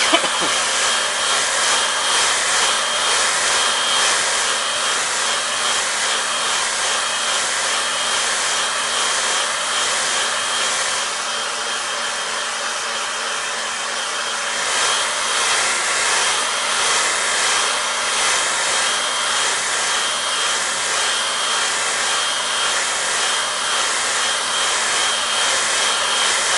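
A hair dryer blows steadily over a watercolour painting for a long stretch, a loud close whirring hiss with a slight dip and shift in tone midway, no voices.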